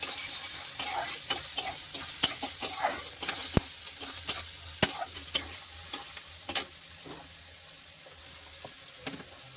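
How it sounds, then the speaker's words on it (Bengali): Carrots and capsicum frying for upma, a soft continuous sizzle with frequent crisp spatula clicks and scrapes against the pan, close and moderately quiet, the stirring easing off toward the end. "গাজর আর শিমলা, ও হালকা গোল্ডেন ব্রাউন হওয়া তক ভেজে নেব।"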